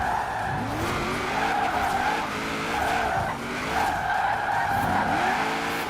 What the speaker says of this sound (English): is the sound of the car too loud as well?